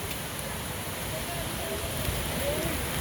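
Steady rain falls through a North Georgia forest at Panther Creek on a seven-mile hike, a soft, even hiss of drops with no pauses, fairly faint and continuous throughout.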